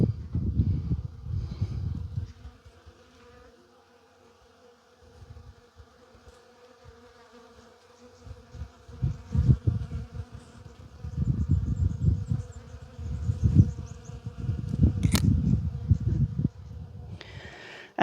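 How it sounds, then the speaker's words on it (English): Many bees hum steadily around a sunlit tree in a garden with calendula nearby, a low buzzing swarm that swells and fades in waves, loudest in the middle and near the end, with no talking. "This tree is absolutely humming with them."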